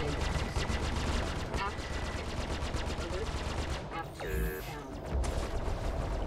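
Repeater guns firing in the Star Citizen space game, with rapid, dense bursts of loud automatic fire, a brief pause with electronic tones, then the fire resumes.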